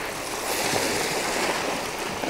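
Continuous broadband wash of waves breaking and surging on a rocky shore at night, a steady close rush of water with no distinct individual crashes over the short stretch.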